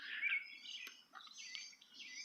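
A red bird calls outdoors, a faint, thin chirping and warbling in short high phrases that sounds distant, with no voices over it.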